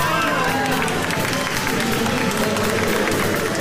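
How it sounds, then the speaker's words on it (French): A convention crowd at Japan Expo applauds in a dense, continuous wash of clapping mixed with crowd murmur and voices, steady and fairly loud throughout. "L'applaudissement justifie les moyens."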